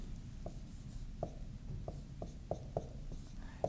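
Marker strokes tap and scratch across a board during a geometry lesson: short, distinct ticks spaced irregularly about every half second, fairly faint over a low background hum, with no talking.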